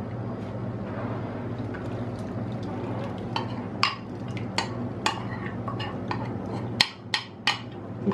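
A spoon stirs tahini batter for tahinopita in a home kitchen bowl, giving a run of sharp clinks and scrapes against the bowl that grow more frequent toward the end, over a steady low room hum.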